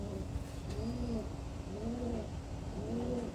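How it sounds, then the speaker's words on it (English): Black Venetian high flyer pigeons coo close by in three evenly spaced, soft rolling calls over a constant low background hum. "Where did that bird go?"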